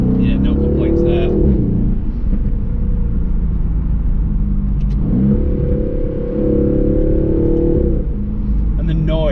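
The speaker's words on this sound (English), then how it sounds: "the noise of this car, because it sounds incredible" A 2021 Aston Martin Vantage engine revs hard in rising and falling sweeps, loud and close throughout, with a person talking over it.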